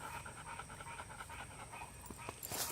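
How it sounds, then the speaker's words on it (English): A dog panting rapidly and steadily close by after running around, a continuous rhythmic huffing with a faint high whine and a brief clatter near the end. "You're going to hear a lot of panting there from Miss Maddie"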